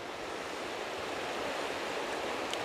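A small stream runs steadily in a cold, remote landscape, giving a continuous broadband rush with no breaks, partly blended with wind.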